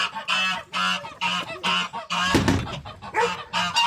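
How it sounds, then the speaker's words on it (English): Farmyard goose honking repeatedly in loud, close, nasal bursts about every half second, with a harsher scuffle around the middle. "Alright, I'm going to use this stick to control this goose,"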